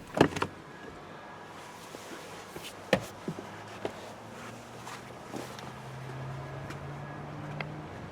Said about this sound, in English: The seat and steering wheel do move back to help with easier entry and exit.